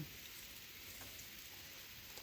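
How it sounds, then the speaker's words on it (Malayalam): Steady, faint rainfall, a continuous soft hiss of drops without any talking. "മഴയുണ്ട്"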